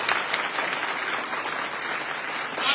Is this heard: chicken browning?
no